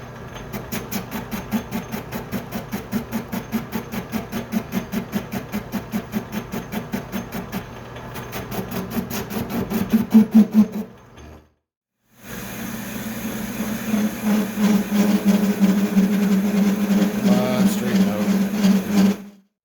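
An Atlas lathe fitted with a custom cross slide runs through a cut, giving a rhythmic mechanical chatter that pulses steadily, stops briefly, then resumes louder and more strained.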